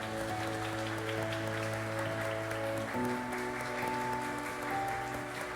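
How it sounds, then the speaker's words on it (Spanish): A Baptist church congregation claps in a soft, steady patter, heard faintly beneath sustained held tones. "Un aplauso para el Señor."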